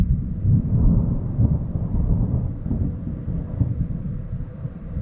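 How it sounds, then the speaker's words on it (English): Thunder from an approaching monsoon storm over an off-grid homestead, a continuous low rumble rolling on throughout, moderately loud and steady, with wind buffeting the microphone and no speech. "There's thunder going on over there."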